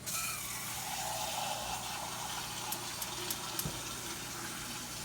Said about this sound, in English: We're gonna fill this up with water.